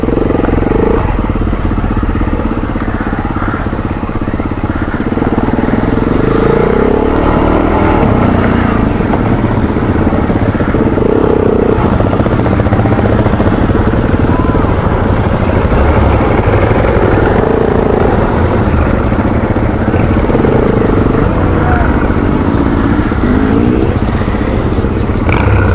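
A trail motorcycle grinds up a steep ascent, its engine droning loud and close and rising and falling with the throttle throughout.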